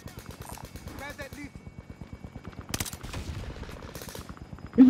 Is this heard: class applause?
no